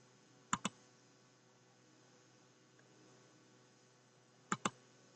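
Computer mouse clicks during a software installation, two quick double-clicks spaced a few seconds apart over faint steady hum.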